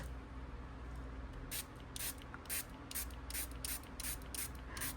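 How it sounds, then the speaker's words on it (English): Quick bursts of water mist sprayed onto watercolor paint pans, about ten short crisp hisses in an uneven run after a quiet start, close and fairly soft, with no talking. "but I'm going to go ahead and spray them."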